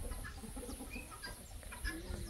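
A hen clucks softly and intermittently in a noisy outdoor setting, the calls faint and scattered amid steady background rumble.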